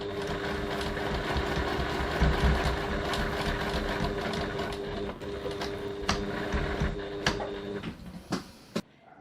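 A sewing machine runs steadily as it stitches a bag seam. The close, continuous mechanical whir hums for several seconds, then slows into a few sharp clicks and stops near the end. No one speaks.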